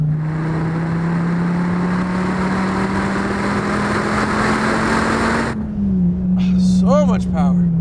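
An SRT Viper GTS engine drones loud and steady as it accelerates hard along a race track, its pitch climbing slowly, then a gear change leaves a lower hum as someone talks over it.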